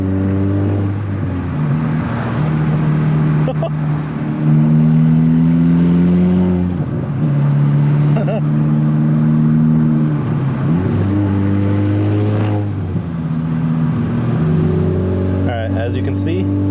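Car engine with an ECS diverter valve spacer fitted, accelerating on a quiet road and climbing through several gears with rising and dropping pitch, loud and close from inside the cabin, with people talking over it.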